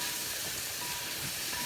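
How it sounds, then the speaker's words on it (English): Steam hisses steadily off a pot of chicken yakhni cooking over a high flame, a continuous broadband rush with no voices. "A lot of steam evaporating."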